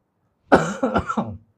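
A short throaty cough, a few rough bursts in under a second, close and fairly loud, alone without speech.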